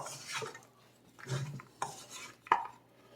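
Almonds being stirred in a pan for candied almonds, making a few intermittent scraping and rattling strokes, close and fairly quiet, with a sharp clink near the end.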